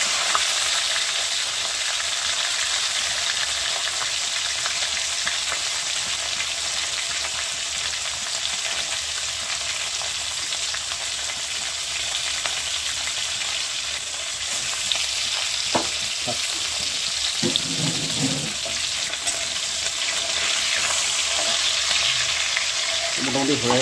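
Desi magur fish frying in a pan, cooked in two batches, gives a steady, close, dense sizzle the whole way through, with a few brief clatters near the end and no talking.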